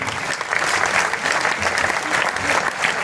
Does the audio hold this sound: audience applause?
yes